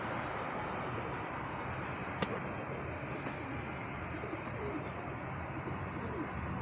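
Free-flying pigeons coo softly outdoors in a low, continuous murmur of gentle burbling calls, fairly quiet and blended with ambient background noise.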